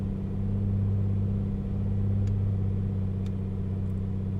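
A Piper Comanche piston engine held at steady run-up power during a magneto check in a flight simulator, a constant even drone with a low throb and no voices.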